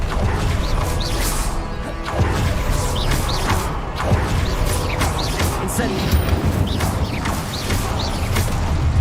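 A fire spell from a Harry Potter video game bursts in repeated whooshing, crackling blasts over a continuous busy game soundscape, with a voice talking throughout.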